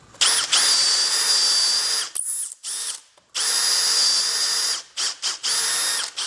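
A power drill whines in several high-pitched bursts while drilling dowel holes in American walnut cabinet panels, spinning up and stopping with brief pauses, close by and with no talking.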